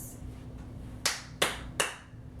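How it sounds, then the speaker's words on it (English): Students in a classroom clap three times, sharp and evenly spaced, against a faint, quiet room background. "If you can hear me, clap 3 times."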